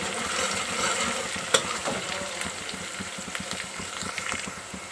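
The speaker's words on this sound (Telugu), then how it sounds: "కరివేపాకు ఒక 4 రెమ్మలు అట్లా కాడలతో సహా వేసుకుందాం" Curry leaves, added with their stems, frying in hot oil for a mutton curry, giving a steady close sizzle with scattered crackles and one sharp pop, no voices.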